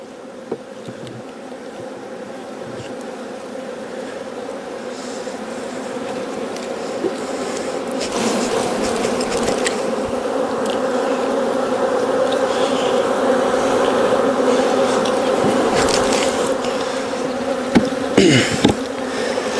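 Honeybees buzz steadily around an open beehive during an inspection, a dense sustained hum that swells louder midway and stays near and continuous, with a few sharper knocks toward the end.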